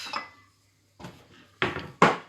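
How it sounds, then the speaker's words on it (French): A small bowl and a spoon are handled, giving four separate close clinks and knocks of ceramic and metal with short silences between them. "Je vais prendre un petit bol."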